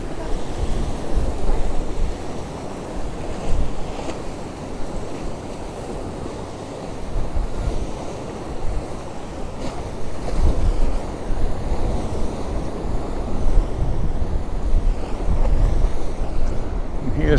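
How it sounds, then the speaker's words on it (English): Sea waves crash against the rocky shoreline at Cala Ratjada, Mallorca, a loud, continuous rolling surge with swelling bursts of spray, heavily mixed with gusting wind buffeting the microphone. "as the waves strike the rocks"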